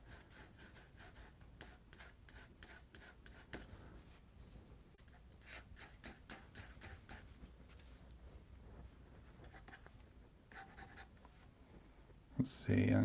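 Pencil scratching and scribbling on paper in repeated short strokes, with pauses between bursts, close and fairly quiet, ending in a louder rustle.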